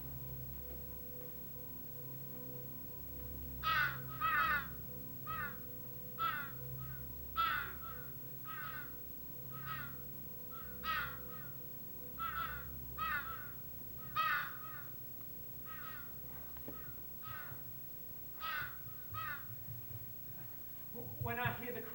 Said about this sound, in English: When I hear the crows, I know I'm dreaming.